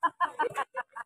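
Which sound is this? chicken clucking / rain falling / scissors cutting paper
chicken clucking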